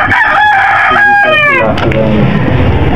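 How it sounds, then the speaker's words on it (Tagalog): A rooster crows loudly and close by, one full cock-a-doodle-doo with a rising then falling call. "anong manok to, Dol?"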